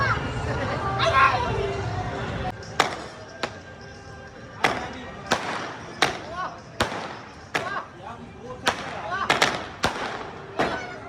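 Fireworks burst at a Basant night party, a series of sharp, fairly close bangs spaced a second or so apart, growing more frequent toward the end, while people chatter in the background.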